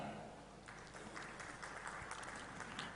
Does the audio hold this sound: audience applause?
yes